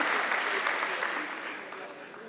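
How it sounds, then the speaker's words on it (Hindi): An audience at a political speech event in New Delhi claps in a single burst of dense applause that gradually fades. "उनका भी ताली बजाइए।"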